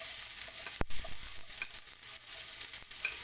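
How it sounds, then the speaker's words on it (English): Chopped onion fries in oil with asafoetida for okra masala, a constant close sizzle with a sharp utensil clack near the start and scattered stirring scrapes; no talk. "Then we can put our chopped onion."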